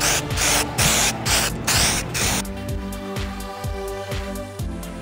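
Spray can or airbrush laying a light coat on prop gun pieces, with rhythmic hissing bursts in the first half giving way to quieter, steadier spraying, close and fairly loud without any talk.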